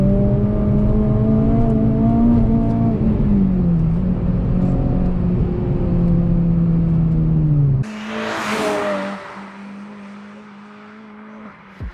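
Renault Clio 3 RS engine pulling hard after a downshift, a loud close in-car drone with a steady harmonic whine that sags briefly, then cuts to a lower idle-like hum fading out near the end.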